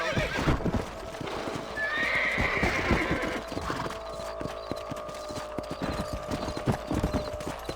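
Horse hooves clip-clop in a fast gallop throughout, with a shrill neigh early on, loud and close in the Red Dead Redemption video game.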